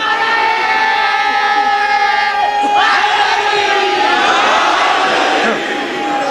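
A large crowd at a Muharram majlis shouting a religious slogan in unison, a loud sustained roar of many voices that swells midway and holds to the end.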